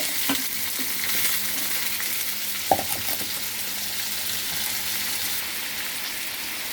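Washed potatoes go into a hot pan for potato poriyal and are stir-fried, making a continuous hissing sizzle with one clear clack of the spatula midway, close and steady, with no voices.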